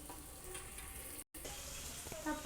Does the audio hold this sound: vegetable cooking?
yes